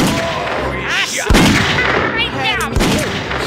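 Gunshots ring out in the Western video game Grizzly Gulch, two loud sharp cracks about a second and a half apart amid bursts of scattered game noise and chirpy effects.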